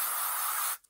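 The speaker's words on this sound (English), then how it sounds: "spray it in your hand first, rub it, then apply it to your hair" Hairspray is sprayed into a hand in one short, loud, close hissing burst under a second long, ending abruptly.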